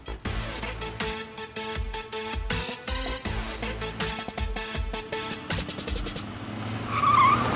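A car skidding to a stop in a Hindi-dubbed South Indian action movie, tyres squealing and screeching under a dense, pulsing dramatic music score, with the engine and skid building loud near the end.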